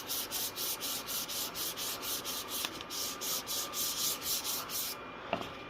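Hand sanding of a wooden plaque: steady rhythmic back-and-forth rasping strokes, about two per second, close and continuous, with a couple of small taps, no voices.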